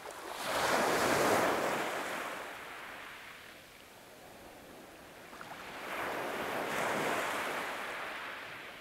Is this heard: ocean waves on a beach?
yes